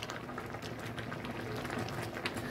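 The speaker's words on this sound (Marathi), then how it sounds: "आता बघू शकता आपला हा खीस आता चांगला पूर्णपणे उकडतोय" Grated raw mango cooked with sugar into murabba, boiling in a pan with a soft, continuous bubbling and fizzing, quiet and close.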